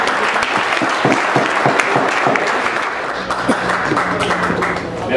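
Audience applause at the opening speeches of a 2014 hockey festival, loud close clapping with individual claps audible at first, blending later into denser applause with a faint low hum beneath.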